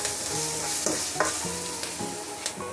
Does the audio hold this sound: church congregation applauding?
no